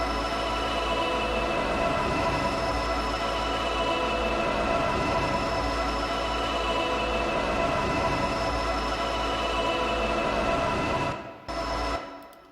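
A steady music beat loop with filter and reverb effects, thin and washed-out in tone, plays continuously, then breaks up and cuts out near the end.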